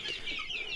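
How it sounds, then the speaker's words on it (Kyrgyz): Month-old chicks, white Leghorns and black Australorps, give soft peeping and clucking calls in a brief, busy burst. The calls are moderately close and overlap, heard alone without talk. "Булар бир ай болоюн деп калган жөжөлөр."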